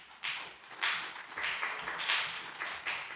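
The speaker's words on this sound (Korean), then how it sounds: "광고 나오실 때 큰 박수 부탁드립니다" A church youth congregation gives a round of applause at a Sunday service, steady overlapping clapping that rises in waves across the few seconds, with no talk over it.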